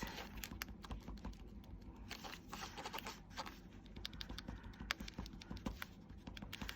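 Fingertips tap repeatedly on card to press down washi tape, making quick, soft, close pattering taps in an irregular rhythm with no talk.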